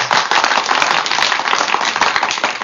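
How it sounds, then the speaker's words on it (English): Canned studio audience applause on a live talk show, a dense, steady wash of clapping that stays loud and even from start to finish with no voices on top. "give them that amazing LA Talk Live fake audience applause"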